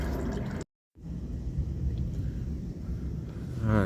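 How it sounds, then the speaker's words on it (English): Engine oil from a Nissan Altima 2.5 S runs out of the drain into a pan, giving a steady liquid trickle with a short silent gap near the start and faint rumbling underneath. "we're gonna move this pan over and let that drip down"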